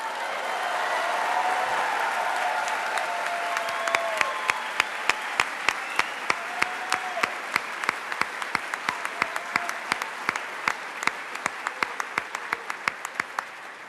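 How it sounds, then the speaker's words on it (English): An audience applauds a student standing up at an educators' gathering, a soft wash of clapping that swells into sharp, evenly spaced individual claps standing out near the microphone, with no speech. "You got the special round of applause, Adam."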